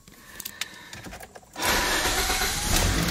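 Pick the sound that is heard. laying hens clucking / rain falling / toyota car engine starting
toyota car engine starting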